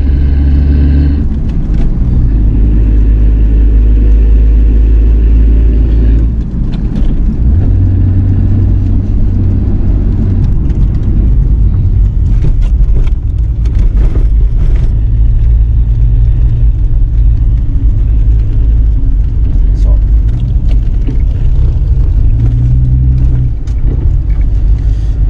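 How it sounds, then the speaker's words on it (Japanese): A Nissan Skyline GT-R BNR32's tuned engine roars loudly with deep exhaust rumble, revving and shifting through gears as the car accelerates hard. "マフラーもいい音してますね。"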